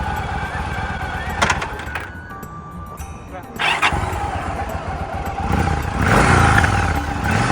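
A motorcycle engine idles and revs as a child rides it, the motor rising in short bursts with clattering, and adult voices talking over it.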